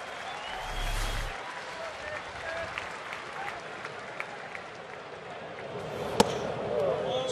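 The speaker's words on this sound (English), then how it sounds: "Smattering of applause for Jeff Francoeur." Scattered applause rises from a baseball crowd at a Kansas City Royals at Atlanta Braves game, a diffuse, moderate wash of clapping and murmuring over steady stadium ambience with one sharp bang near the end.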